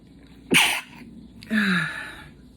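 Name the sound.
sneeze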